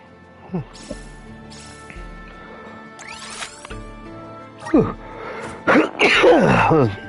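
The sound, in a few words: sneeze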